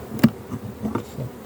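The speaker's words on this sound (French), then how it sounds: "Pas mal d'abeilles, vous voyez, la colonie était belle" Honeybees from a rescued hive colony buzz in short, uneven bursts at close range, with a few louder pulses standing out against a steady low hum. No one speaks.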